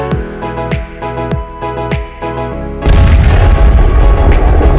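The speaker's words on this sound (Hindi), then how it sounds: "पाकिस्तान से 3200 किलोमीटर दूर फिलिस्तीन में इजराइल बम बरसा रहा है।" Bombs exploding in Palestine during Israeli airstrikes in news footage: a run of heavy booms and impacts repeating every second or so, then a sustained loud roaring blast rumble filling the final two seconds, with no talk.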